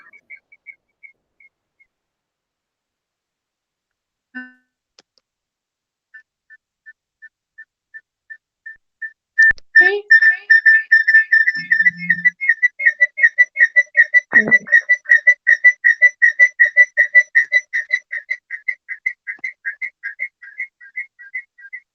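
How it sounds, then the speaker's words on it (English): Short, sparse whistle notes give way to a long run of rapid, steady, shrill chirping whistles, bird-like and clear, with no talk over them. "I hear a whistle or something, the sound of a bird."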